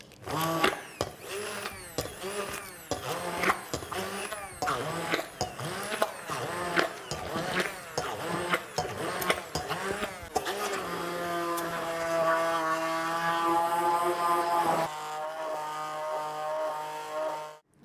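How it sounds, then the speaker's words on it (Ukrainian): A blender mixes a strawberry and hibiscus sorbet mixture in rapid stuttering pulses, then runs in one steady whining burst before stopping, close and moderately loud. "перемішати нашу суміш з полуниці та каркаде за допомогою блендеру"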